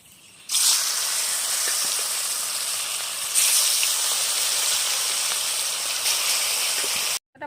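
Fish sizzles and hisses steadily in hot oil in an iron wok, a loud continuous frying crackle that swells partway through and cuts off abruptly at the end.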